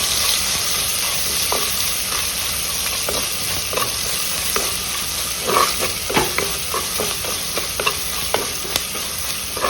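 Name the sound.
onions and dried shrimp frying in a pan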